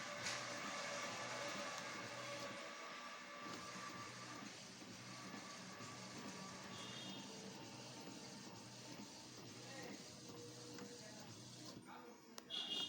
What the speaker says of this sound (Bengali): ইপসন এল তিনশো আশি প্রিন্ট দিচ্ছি দেখি কি হয়